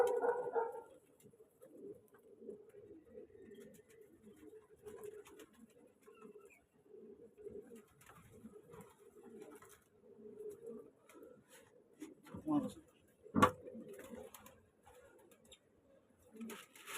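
Domestic pigeons coo in low, steady throaty murmurs while one bird is held in the hand, the soft cooing continuing throughout with a couple of louder bursts of handling or wing movement near the end.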